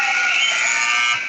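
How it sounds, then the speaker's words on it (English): A one-minute timeout buzzer at a high-school volleyball match sounds in a single loud, steady, harsh electronic tone that holds for over a second before tapering off. "the 1-minute buzzer is up"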